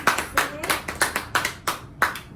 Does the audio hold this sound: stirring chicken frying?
no